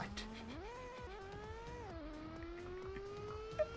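A car is driven on a race circuit with its engine note rising and falling through shifts, running steadily at moderate volume with a close, continuous hum and no voices.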